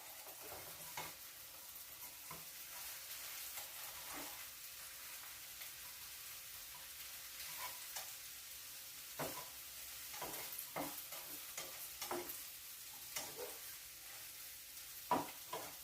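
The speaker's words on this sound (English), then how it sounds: "you stir that up a little bit and scramble that egg in with those potatoes" Egg being stirred and scrambled with potatoes and sausage in a frying pan, a soft low sizzle punctuated by scattered scraping taps of the utensil, close and fairly quiet.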